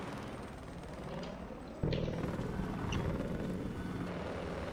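A helicopter in a video game esports showmatch gives off a steady, quiet rotor drone that swells louder partway through, with faint bursts that may be gunfire mixed in.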